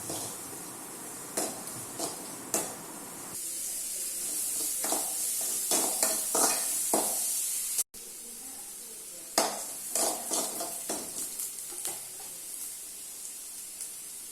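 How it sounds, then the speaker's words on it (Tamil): Onion and green chili sautéing in a pan until golden brown, a steady sizzle broken by repeated scraping stir strokes and light utensil knocks against the pan, close and fairly loud throughout. "இது நல்லா ஒரு கோல்டன் ப்ரௌன் ஆஸ் யூஷுவல் நம்மளுக்கு ஆகிற வரைக்கும் லைட்டாக வதக்கினா போதும்."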